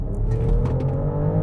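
A BMW X5 50e plug-in hybrid SUV with a turbocharged inline-six petrol engine accelerates hard, a steady low engine drone and road noise heard from inside the cabin, continuous and fairly loud with no talking.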